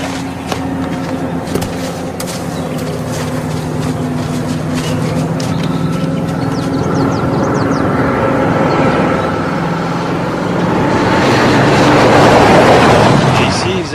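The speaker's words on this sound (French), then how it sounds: "un bruit de moteur à midi, descends" Engine noise from a vehicle drawing closer in an action-film scene, a low continuous rumble that builds in loudness toward the end, with a brief voice early on.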